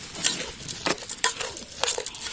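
Puffed rice being mixed with chanachur in a bowl, giving soft scraping and rustling strokes at an irregular pace, close and moderately quiet, with no talking.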